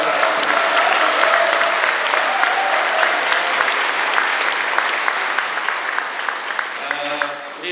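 An audience applauding a university president at a large formal event in Busan, dense sustained clapping from many hands filling the hall and fading near the end.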